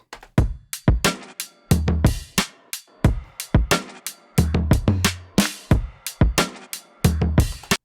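Drum bus played back through an SSL-style bus compressor and a Pultec EQ with low and high shelf boosts: a punchy loop of kicks and snares hitting in a steady rhythm, loud and close, with no talking.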